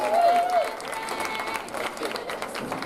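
An audience at a college volleyball awards announcement applauds a conference coach of the year, with steady clapping and crowd noise at moderate distance and a voice speaking over it.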